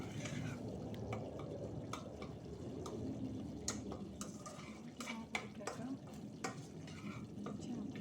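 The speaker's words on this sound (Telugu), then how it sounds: "టొమాటోస్ కొంచెం అలా అలా స్మాష్ చేసుకోవాలి" Cooked tomatoes being mashed in a pot of raw fish curry, with steady stirring and scraping against the pot, light clinks of a utensil and a low simmering sizzle beneath.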